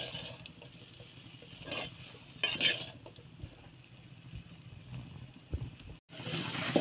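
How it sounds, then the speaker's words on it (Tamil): Okra sautés in a pan over a low flame, giving a quiet, soft sizzle with occasional scrapes and light clinks of stirring against the pan. "அப்படியே சிம்மிலேயே வச்சு இது வதங்கட்டும்"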